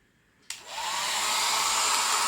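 A hair dryer switches on abruptly after a brief quiet moment, blowing onto an Arduino fire-detection sensor, its airy roar quickly settling into a loud, steady blow.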